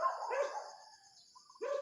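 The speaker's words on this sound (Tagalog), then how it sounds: "Yung mga aso na lalaki nagsusulputan." Dogs bark outdoors, a couple of distant, faint yelping barks with a pause between them.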